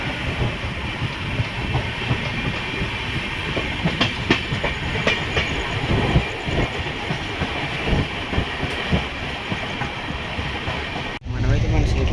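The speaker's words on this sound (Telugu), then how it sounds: "సో మన ట్రైన్ అయితే సింహాచలం డిపార్ట్ అయిపోయింది." The Visakhapatnam–Korba Express runs steadily on the rails after leaving Simhachalam at night, a loud continuous rumble with rhythmic clickety-clack heard from inside the coach, with voices faintly underneath.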